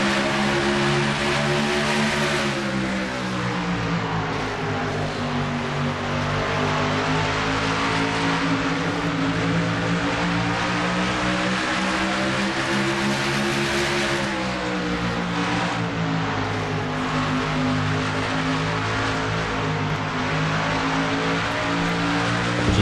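A race car engine in a sim racing game at Iowa roars continuously and loudly, the pitch rising and falling as the throttle is modulated through the laps, with no talk over it.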